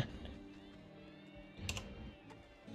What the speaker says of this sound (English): You thumping on the keyboards?